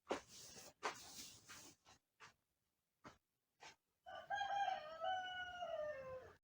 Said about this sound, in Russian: Вот наши курочки тоже позавтракали, едят траву.